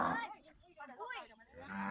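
Fattened cattle on a large farm moo loudly and close by, a drawn-out low bellowing call followed by another rising moo, with no talk over it.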